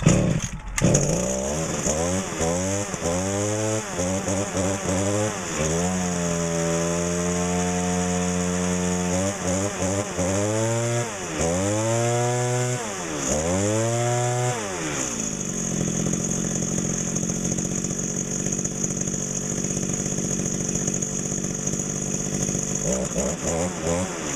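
After a carburetor replacement, the small two-stroke engine of an Echo GT2000 string trimmer runs close by. It revs up and down repeatedly, then settles into a steady, high, buzzing drone.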